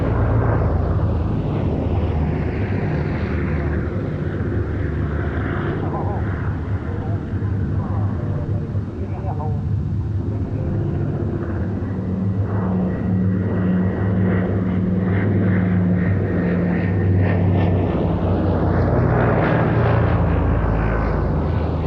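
A Catalina flying boat in OA-10A rescue markings drones past with its piston engines at an airshow at Duxford, a loud steady roar that swells and shifts in pitch as it passes, with a commentator speaking over it.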